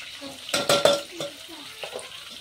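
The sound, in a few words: onions frying in a pan with ginger-garlic paste and green chillies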